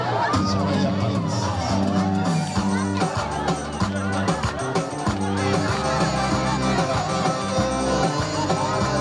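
A crowd at a village folk music performance cheers and claps, a loud dense wash of applause and whoops mixed with voices and music throughout.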